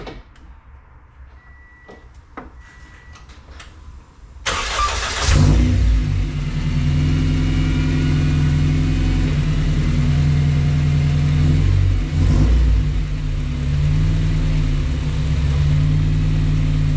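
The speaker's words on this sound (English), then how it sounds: "we'll start the car" A Subaru BRZ with a K24 engine swap and a custom muffler setup cranks and starts abruptly after a few quiet clicks, then settles into a loud, steady idle with a brief rev partway through.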